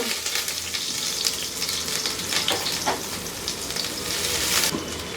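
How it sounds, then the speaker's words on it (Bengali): Chopped onion and garlic frying over high heat in two tablespoons of hot oil for Italian pasta alla Norma, a loud, continuous sizzle close up with stirring scrapes breaking through, no voices. "আমি এখন চুলায় দুই টেবিল চামচ তেল গরম করে এর মধ্যে কিছু পেঁয়াজ কুচি আর তিন চার টুকরা রসুন কুচি কুচি করে রাখছি ওগুলা দিয়ে একটু ভেজে নিব"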